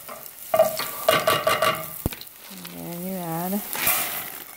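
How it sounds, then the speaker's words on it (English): Garlic fries in oil in a pot for a family dinner, a soft sizzle under repeated stirring clatter from a spoon, with a voice briefly sounding in the middle. "So you fry your garlic first."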